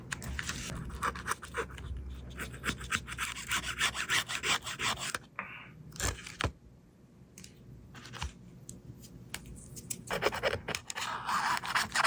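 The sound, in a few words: small screwdriver scraping old phone frame adhesive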